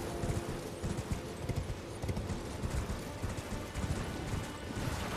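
Horse hooves clip-clop steadily in Elden Ring while riding toward an enemy near a Marika statue, a rapid continuous rhythm under dense game ambience and battle noise, with no talk.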